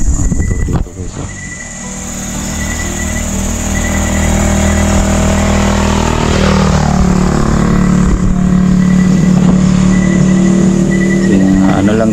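A motorcycle engine drones and revs close by as it passes, in a loud, continuous rising whine with a broadband rush and no clear talk.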